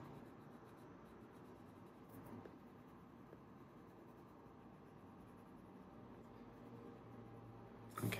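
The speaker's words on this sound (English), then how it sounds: "I just love the feeling of burnishing these crayons in" Crayons are burnished into paper with a faint, continuous waxy rubbing, heard close up in a very quiet room.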